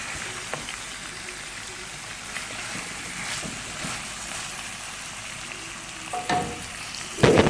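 Chicken seekh kabab pieces fry in a pan with a steady, soft sizzle and crackle. Occasional scrapes of stirring come through, and a louder clatter of utensil on pan lands near the end.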